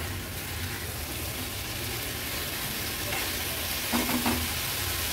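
Pumpkin and peas fry on a medium flame while being stirred, a steady soft sizzle with scraping and a short burst of louder clinks near the end, no talking.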